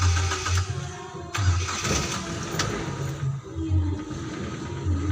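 A motor vehicle's engine cranked with its electric starter: repeated whirring cranking bursts, each sputtering briefly before dropping off, heard up close across several seconds with no talking over them.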